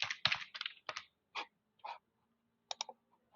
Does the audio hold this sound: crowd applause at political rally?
no